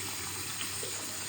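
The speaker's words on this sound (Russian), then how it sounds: "аккуратненько вот так помою все лицо" Water runs from a tap while a face is being washed, a soft, steady hiss that stays faint and even across the short moment.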